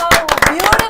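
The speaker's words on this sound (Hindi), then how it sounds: "तालियां एक और बार।" Fans celebrate India's T20 World Cup final win over New Zealand with brisk, loud clapping in a quick run of about seven claps, while a voice speaks over it.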